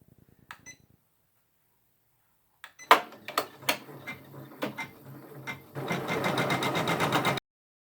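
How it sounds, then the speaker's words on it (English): A Janome MB4 embroidery machine stitches a decorative border line: first short beeps and mechanical clicks, then a rapid whirring stitching run that cuts off abruptly, heard close and alone. "now it'll stitch the decorative border line"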